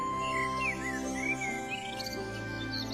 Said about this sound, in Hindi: बहुत से पंछी पानी पीने आए।